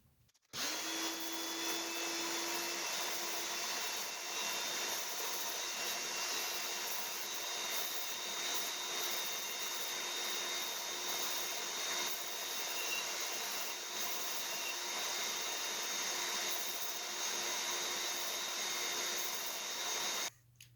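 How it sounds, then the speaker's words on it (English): A workshop vacuum, fan and sander switched on together whine and roar in a steady, loud drone, a vacuum-like hiss blended with a motor hum, then stop. "I've got a switch that turns on the vacuum, the fan, and the sander all at once."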